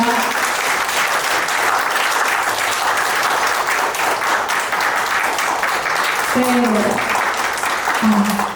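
Sustained loud applause from an audience at a Korean dictionary book launch celebration, steady dense clapping throughout, with a few brief voices calling out near the end.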